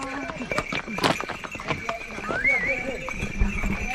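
Irregular clip-clop of horse hooves on a hard surface, close and fairly loud, with a brief whinny and some voices in the background.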